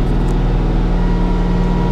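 A Bobcat tractor engine rumbles loud and close with a steady low drone as the throttle is eased back, holding an even pitch throughout.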